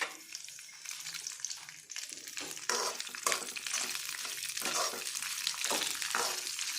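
Green chillies, curry leaves and coriander sizzling in hot oil, a loud continuous frying hiss with stirring scrapes and bursts of spitting, close and alone without voices.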